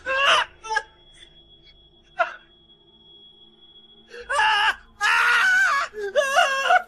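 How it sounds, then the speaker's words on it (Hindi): A woman gives painful, anguished screams as a horror story sound effect, several loud wailing bursts that rise and fall, the last ones long and drawn out, with quiet gaps between, heard alone. "कालिया की दर्दनाक चीखें मैं बर्दाश्त नहीं कर सका।"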